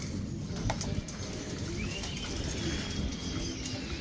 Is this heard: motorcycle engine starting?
no